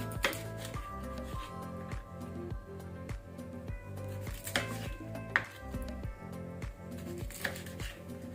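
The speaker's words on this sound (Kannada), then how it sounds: "ಈಗ ಕಟ್ ಮಾಡ್ತಾ ಹೋಗುವ" A knife chops steadily through pomfret fish on a board, in a regular rhythm of sharp, close cuts that sit over faint background music.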